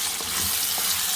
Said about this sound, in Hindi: अब इसके अंदर ये गोश्त डाल देंगे और मज़ीद 5-7 मिनट के लिए इसको भूनेंगे